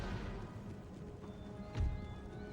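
Cavalry in Total War: Empire with a steady, massed rumble of galloping hooves from a regiment of horse, mid-distance and fairly quiet, with a brief neigh rising near the end.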